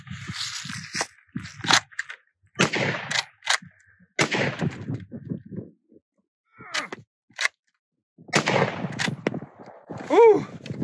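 Sommer & Ockenfuss straight pull bullpup rifle in use: a series of sharp, separate cracks spaced several seconds apart, with clattering handling noises and short bursts of talk between them.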